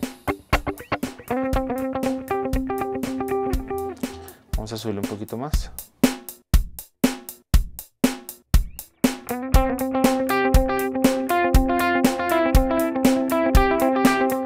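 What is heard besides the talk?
guitar delay effect on Nux MG300 processor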